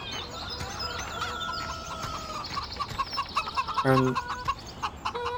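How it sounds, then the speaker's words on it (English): Chickens cluck in the video game Farming Simulator 17, a steady flock chatter with one louder, closer call near the end. "Where's my chickens go? Have I gone the wrong way for chickens? I hear them."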